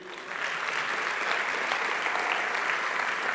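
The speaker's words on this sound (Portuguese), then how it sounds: "Dá um aplauda ao Senhor aí." A church congregation bursts into applause during an evening worship service, a dense, steady wash of many hands clapping that builds quickly and holds for several seconds.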